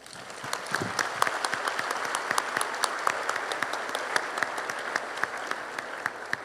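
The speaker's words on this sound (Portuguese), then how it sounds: "Peço a ele uma salva de palmas." A crowd applauding steadily, dense clapping from many hands that holds an even level throughout.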